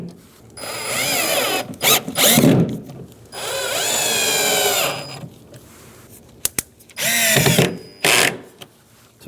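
A power drill drives Phillips head screws to fasten a speaker into the door panel of a 2007-2015 Mazda CX-9. Several loud, close whirring bursts of the drill spinning up and down come in quick succession, with short pauses between them.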